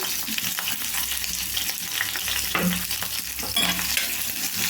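Onion pieces, cut fairly large, frying in a pan for a chana dal chutney, giving a steady sizzle with scraping stir sounds throughout, close and continuous with no voices.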